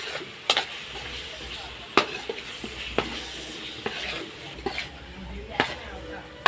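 Country chicken masala is stirred with chili powder in a pan, giving soft scraping and sizzling with several sharp clinks of a spoon against the pan over a low frying hiss.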